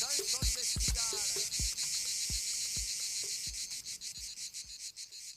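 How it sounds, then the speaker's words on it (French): Cicadas buzz in a dense, high, continuous chorus, loud and close, while birdsong chirps in short repeated phrases underneath. "Oh, c'est la chanson des cigales."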